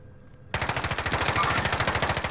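Rapid automatic gunfire in a first-person shooter video game with a close, loud, steady machine-gun rattle that starts abruptly after a brief quiet moment and continues without pause.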